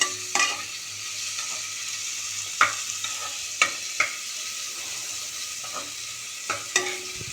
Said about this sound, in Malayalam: രണ്ട് ചെറിയ ഉള്ളി ഉപയോഗിക്കണം ഈ ഉള്ളി ഒന്ന് നന്നായി സോട്ട് ചെയ്ത് വരട്ടെ